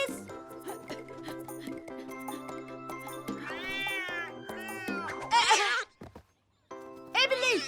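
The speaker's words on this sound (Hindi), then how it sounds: "ये बिल्ली ऐसे नहीं मानेगी।" A cartoon cat in a children's animated show meows in several drawn-out, wavering cries, loud and close over steady background music.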